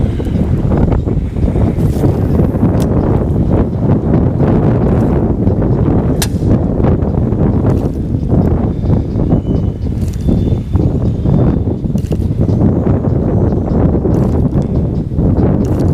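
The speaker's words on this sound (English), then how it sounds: "Wind has actually managed to find its way directly up the slough like I was talking about, and it is holding me in place" Wind blows steadily up a slough during a fishing outing, a loud, continuous roar buffeting the microphone with gusty surges and a few faint knocks.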